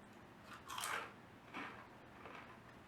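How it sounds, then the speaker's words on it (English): Someone bites into crunchy homemade pita chips dipped in hummus, giving a few close, quiet crunching bites spaced about a second apart. "Can you hear its crunchiness?"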